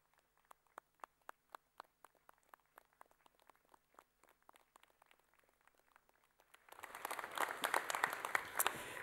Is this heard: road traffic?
no